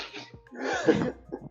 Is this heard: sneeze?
yes